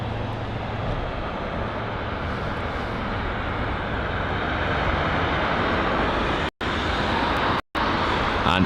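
A British Airways Boeing 777-300 from New York JFK lands on runway 09 left at Heathrow, a steady broad jet roar filling the whole stretch, loud and unbroken apart from two very short dropouts near the end.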